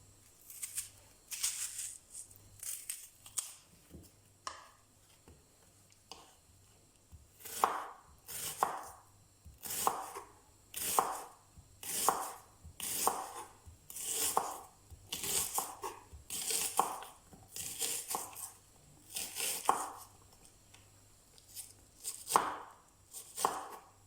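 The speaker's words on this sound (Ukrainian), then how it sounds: "Спочатку напівкільцями нарізаємо цибулю." A knife slicing an onion into half-rings on a cutting board: dozens of crisp chops in a steady, quick rhythm, sparse at first, then regular and close.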